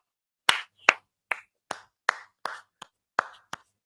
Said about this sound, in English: Why are we clapping it?